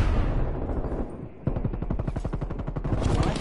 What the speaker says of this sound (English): Obviously they got a sentry gun.